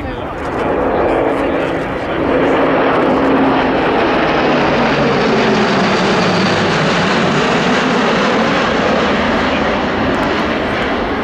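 An Airbus A400M military transport of the Royal Air Force displays at the Royal International Air Tattoo, its turboprop engines giving a loud, sustained droning roar, with a voice talking over it.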